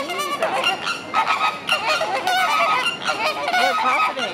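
Flamingos fighting, harsh goose-like honks and squawks repeating rapidly in a loud, continuous, overlapping chorus close by.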